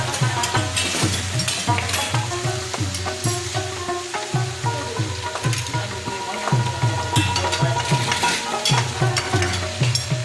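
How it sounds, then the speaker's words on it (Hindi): Beef karahi gosht with yogurt mixed in is stirred in a hot pan: loud, continuous sizzling and frying under a rhythmic, repeated scrape of the spoon, close and busy throughout. "अब अच्छी तरह से मिक्स कर देंगे।"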